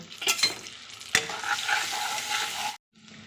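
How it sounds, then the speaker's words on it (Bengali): Ground black cumin spice paste sizzles and is stirred in a hot pan, with steady scraping and frying hiss lasting a few seconds, then dropping away to a quieter sizzle. "এবার এটা দিয়ে দিচ্ছি দিয়ে একটু কষিয়ে নেব"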